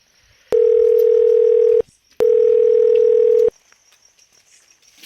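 Telephone dial tone heard while placing a call, two steady loud beeps of about 1.3 seconds each separated by a short gap, followed by quiet background with no talking.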